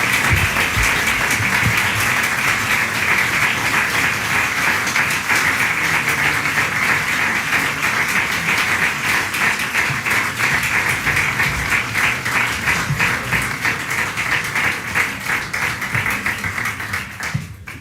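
Sustained, dense audience applause following a speech by a regional government official in Madrid, loud and continuous for nearly eighteen seconds before tapering slightly at the end.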